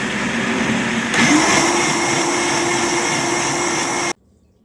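A 25-year-old Vitamix blender purees cauliflower soup with a loud, steady motor whir that rises slightly in pitch after a second, runs continuously for about four seconds, then cuts off abruptly.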